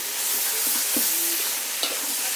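Brussels sprouts and bacon bits sizzle in bacon grease in a pan, a steady, close frying hiss with occasional pops and light stirring scrapes.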